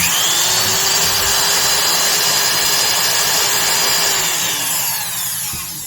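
Loud, continuous high-pitched whine of a Skil Classic 548 mini router motor running steadily, with a faint pitch drift and slight fade near the end.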